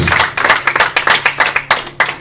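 Rhythmic clapping from a church congregation, sharp claps in a steady beat, close and fairly loud with a faint hum beneath.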